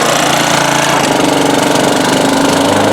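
A 1987 Honda HRA214 lawnmower runs loud and steady while mowing a stripe of grass, its close engine drone continuous and slightly rough throughout with no voices.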